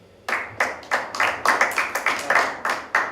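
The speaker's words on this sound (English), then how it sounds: "a big round of applause for them as well" Hand claps ring out at a snooker event, a close, fairly regular run of distinct sharp claps with only slight spreading between them, sounding like a small number of clappers.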